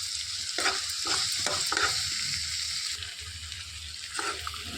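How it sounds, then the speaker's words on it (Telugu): A spoon stirs chili powder and salt into rajma curry in a pan, a few scraping strokes over a steady frying sizzle, close and clear with no talk. "మొత్తం ఒకసారి కలిపేసుకోవాలి."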